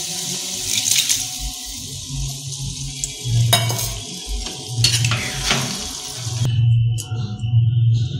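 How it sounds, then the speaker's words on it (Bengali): Beetroot frying in a pan as reserved water is poured in, giving a steady sizzle with stirring scrapes and a few sharp splashy bursts, fairly close and with no talking. "লাস্টে যে জলটা আলাদা করে রেখেছিলাম এই জলটা দিয়ে দেবো।"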